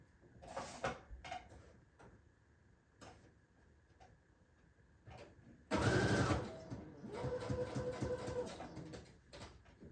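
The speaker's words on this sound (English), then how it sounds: "I'm gonna take this one to the sewing machine just right off camera real quick." A sewing machine starts up and stitches in a steady, busy whir after a few quiet clicks and taps, running continuously through the second half.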